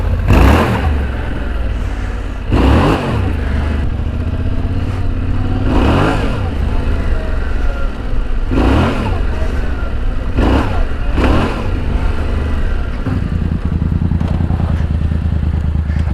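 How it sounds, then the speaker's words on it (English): A Yamaha Tenere 700 motorcycle in first gear on a gravel road gives loud, repeated throttle blips as its rear wheel spins. Sharp engine surges stand out over a steady running drone, and no one speaks. "in first gear, if you just blip your throttle, if you just lean forward and blip it, your back wheel will spin"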